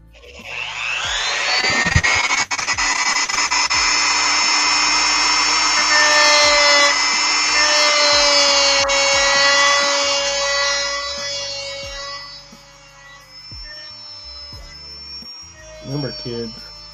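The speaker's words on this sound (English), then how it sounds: "Get the grinder out." A handheld grinder runs in a workshop while customizing action figures, starting with a rising whine and holding a loud, steady high-pitched drone before it spins down; a few clicks and brief talk come near the end.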